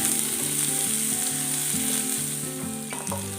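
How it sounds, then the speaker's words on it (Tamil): Onions sizzle steadily in a hot pan for gobi manchurian, a loud, even frying hiss with occasional stirring clinks near the end and no talking. "இந்த வெங்காயத்தை சேர்த்துட்டு இது நல்லா ரோஸ்ட் ஆகி வரட்டும்."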